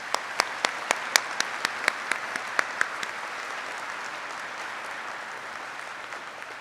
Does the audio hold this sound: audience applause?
yes